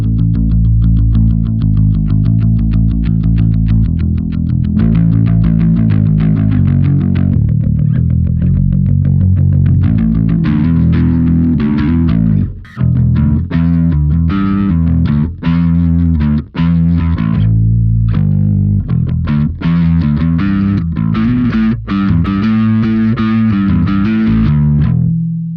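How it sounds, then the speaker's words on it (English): Bass guitar played through a Tube Screamer 808 overdrive model on a Line 6 Helix, giving a loud, continuous, gritty distorted bass line with rhythmic note changes and short pauses, no voices. "we really felt like the Tube Screamer, the 808, it does the job. It sounds really good."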